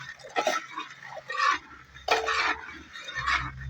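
Dry spice powders, dried ginger, cumin and cardamom, being stirred together in a bowl with a spoon, giving scraping, clinking bursts in two or three close, moderate-volume passes.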